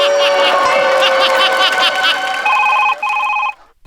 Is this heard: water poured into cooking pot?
no